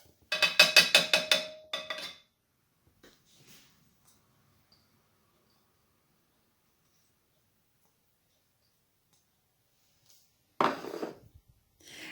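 Grated bar soap tipped into a pot: a quick burst of rattling, clattering scrapes at the start, a few faint taps, then near silence before another short clatter at the end.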